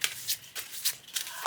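Large storytelling cards riffle shuffled sideways by hand, five quick crisp bursts of flicking card edges in an even rhythm, close and alone with no talk.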